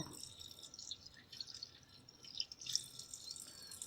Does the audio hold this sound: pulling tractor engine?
no